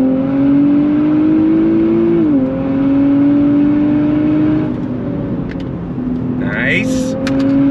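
A 2023 Nissan Z accelerates from a roll in second gear, its engine note droning loudly and climbing steadily with a brief dip at a shift, close and continuous.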